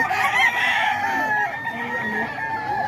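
Roosters crow loudly and close at a poultry sale in Bocaue, with chickens clucking among them and long overlapping calls through the whole stretch.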